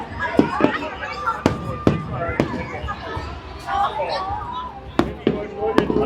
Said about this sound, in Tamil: அந்த வெடிக்காட்சியை பார்த்து சந்தோஷப்பட்டு கொண்டிருக்கிறார்கள்.